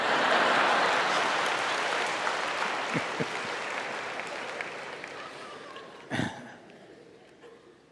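A hall full of listeners claps loudly and then tapers off gradually, with a few isolated thumps and a brief voice near the end as the clapping fades.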